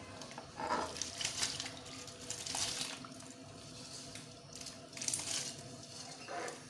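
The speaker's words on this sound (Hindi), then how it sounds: "पानी हमारा उबल चुका है, तो हम इसमें चावल डालते हैं।" Drained rice is tipped into a pot of boiling water while mutanjan rice is being cooked, giving a few soft pouring and splashing bursts over a quiet bubbling background.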